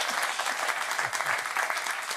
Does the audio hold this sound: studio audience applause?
yes